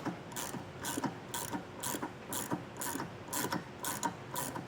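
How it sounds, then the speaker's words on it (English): A 24mm ratchet wrench clicks in a steady, evenly spaced rhythm while loosening the nut and bolt on a Stealth Hitch hidden receiver on a 2019 Land Rover, close and fairly quiet with no talking. "I got a 24mm wrench. I'm going to loosen both these up."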